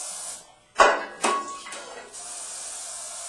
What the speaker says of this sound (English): spray a couple of both pans